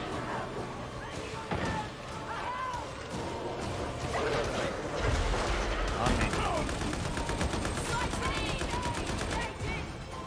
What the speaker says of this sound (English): I was literally shooting that thing until that guy got in the way.